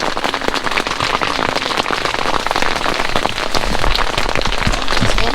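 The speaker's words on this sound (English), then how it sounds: "it's raining like crazy, and it has been for hours with no sign of relief" Heavy rain drumming steadily on a campsite at a dispersed camping spot, a dense, loud patter of drops hitting surfaces without letup.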